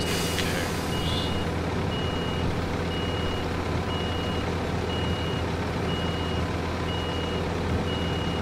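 A truck reversing at full throttle in a construction video game, a loud steady engine drone with evenly spaced reversing beeps repeating about once a second throughout, no talking.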